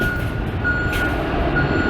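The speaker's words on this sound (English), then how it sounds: "That's a very loud" A truck's reversing beeper sounds loud and repeated at a steady rhythm, cutting through heavy, rumbling engine and traffic noise outdoors.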